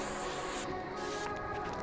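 Tresemme hairspray with level 4 hold spritzed onto hair, a steady hissing spray with short bursts, close and continuous with no talking.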